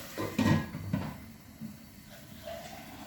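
A lid set onto a cooking pot of tomatoes and capsicum, a couple of soft wooden-sounding knocks and clatters close by, then quiet kitchen background.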